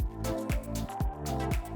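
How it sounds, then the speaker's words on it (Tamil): Basmati rice is washed in water in a kitchen, with rhythmic sloshing, swishing and splashing pulses recurring about every half second, close up and with no voices. "அரிசியில் தண்ணி ஊற்றி நல்லா கழுவிட்டு தண்ணி ஊற்றி 30 நிமிஷம் ஊற வைக்கலாம்"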